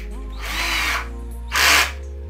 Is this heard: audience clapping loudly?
no